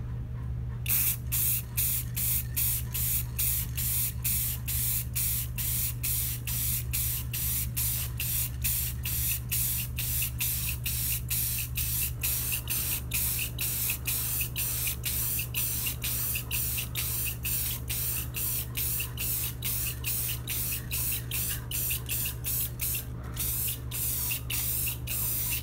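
Clear coat sprayed onto a guitar body in a workshop, a steady close hiss of spray running continuously for about twenty-five seconds with rapid regular pulsing and no speech.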